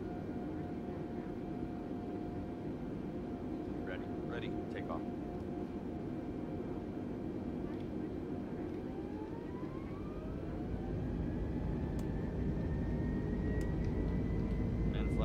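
Simulated airliner engines spool up for takeoff in Microsoft Flight Simulator, a steady broadband roar with rising whine tones that climb and swell louder toward the end, under ongoing talk.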